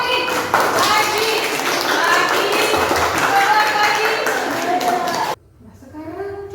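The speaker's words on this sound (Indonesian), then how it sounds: "saya mau kita kasih aplaus yang sangat meriah untuk Ranti" Classroom applause for a student, a burst of clapping from the class mixed with talk, cutting off abruptly after about five seconds into quieter speech.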